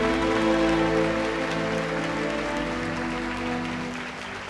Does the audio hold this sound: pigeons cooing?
no